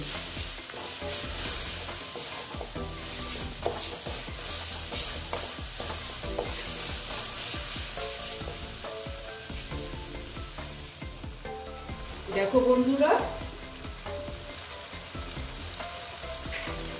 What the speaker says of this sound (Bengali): মশলাটা মোটামুটি ভাজা হয়ে গেছে।